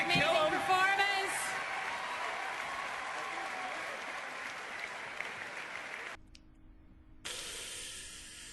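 Sustained audience applause with crowd noise for a performance at the BlizzCon dance contest, a broad steady wash that continues, briefly dips, then resumes.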